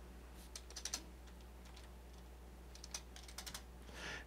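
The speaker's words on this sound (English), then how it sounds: "we will type in a fictional address" Quiet keyboard typing while entering an address into an Access database form: soft, quick keystroke bursts scattered across a steady low background hum.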